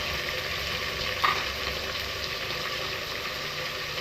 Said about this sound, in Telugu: సో ఇప్పుడు చికెన్ వేసుకుందాం ఇందులో కొంచెం టర్మరిక్ పసుపు